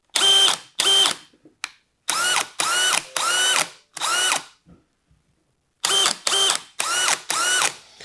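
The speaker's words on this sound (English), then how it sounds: "This 996, I mean, it sounds good. Such a formidable drill, hammer drill." A DeWALT XR 996 cordless hammer drill runs in short bursts, close and loud, with about a dozen spins in uneven groups and a near-silent gap in the middle.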